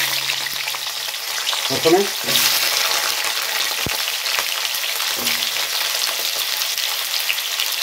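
Potatoes frying in a pan as the first step of a prawn curry with black pepper, a steady close sizzle with a few stirring scrapes throughout.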